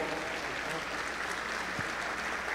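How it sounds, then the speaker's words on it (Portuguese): A church congregation applauds during a Portuguese-language service, a steady, dense wash of many hands clapping continuously, slightly distant, with a faint voice underneath. "Você pode aplaudir o Senhor por isso"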